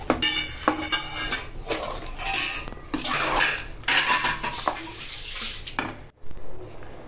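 A spoon stirring ghee into kootanchoru in a metal pot, loud scraping and clanking strokes repeating close by, with a brief pause near the end.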